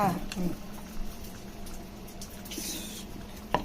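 Soft bubbling and crackling of chive dumplings deep frying in hot oil in a pan, steady and fairly quiet, with a couple of brief clinks and handling noises.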